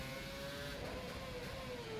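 Formula One car engine in rFactor 2 held hard on the throttle, a faint steady high engine whine with a slowly drifting pitch, alone and continuous.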